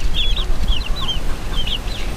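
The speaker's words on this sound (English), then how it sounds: "These are Easter egg chickens because they lay different colored eggs" Easter egg chickens, a breed that lays colored eggs, give a few high, soft chirping clucks in a small flock over a steady low rumble of background noise.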